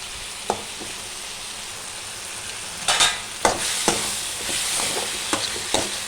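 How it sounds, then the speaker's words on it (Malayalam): Chickpea curry ingredients fry in a pan over a high flame, giving a steady sizzle broken by sharp clinks and scrapes of stirring. "നല്ല ഫ്ലെയിമിലിട്ട് തന്നെ ഇതൊന്ന് മൂപ്പിക്കണം."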